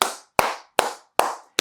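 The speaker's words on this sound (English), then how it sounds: "Give Ashton a round of applause" Four sharp, evenly spaced claps about 0.4 seconds apart, close and loud with quick decays. Sounds more like a single pair of hands than a crowd's round of applause for Ashton at a sales training session.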